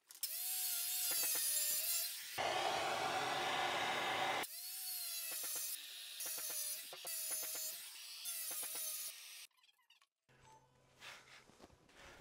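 Power saw cutting bathroom floor tile to size: repeated high-pitched whining cuts, each rising into a steady grinding screech, with a longer harsh bite in the middle and short pauses between passes, close and loud.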